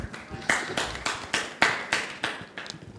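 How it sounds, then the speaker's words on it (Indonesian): Audience applause at a Jambi city political talk show, a short burst of rhythmic clapping from a modest crowd, steady and fairly close, lasting a few seconds. "Oke kita beri aplaus pada Maulana lu"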